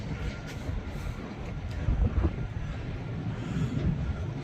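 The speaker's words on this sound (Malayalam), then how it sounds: "ഭയങ്കര കാറ്റാണ്." Strong wind gusts during a sandstorm in Dubai make a continuous low roaring rumble against the microphone, swelling and easing in waves.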